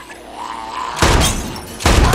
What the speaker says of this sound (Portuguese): Acertou sua garrafa com um tiro.